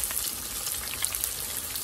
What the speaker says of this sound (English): I'm going to fry them for like 3 minutes on each side.